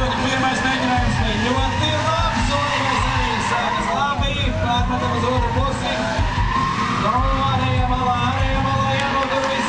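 A BMW 328 drift car at a drift show qualifying run swings from one side to the other, its engine roaring loud and steady with skidding tyres. A commentator talks over it, and a crowd murmurs in the background.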